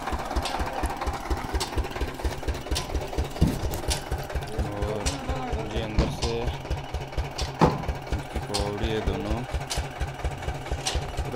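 A geared engine used to lower a well wall runs in a steady, rapid chugging rhythm, close and continuous, with faint voices and clanks over it.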